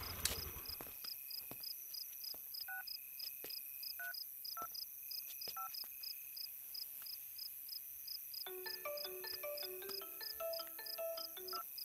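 A phone call is placed on a mobile phone, with a string of dialing tones followed by a rapid, repeating electronic ringtone pattern, all over a steady high-pitched cricket-like chirping background.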